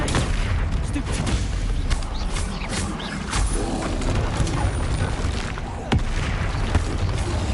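A Bombarda explosion spell in Hogwarts Legacy bursts amid noisy combat, with sharp booms and crackling impacts over steady rumbling background and some talk.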